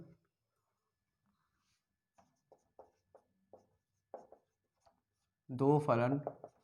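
Chalk or marker scratching out a definition on a classroom board in a series of short, separated strokes, then a teacher's voice speaks near the end.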